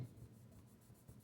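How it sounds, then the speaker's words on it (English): A black colored pencil lightly shades on paper, making a soft, faint, continuous rubbing scratch with gentle back-and-forth strokes. "Now, I'm gonna take out my black colored pencil and lightly shade."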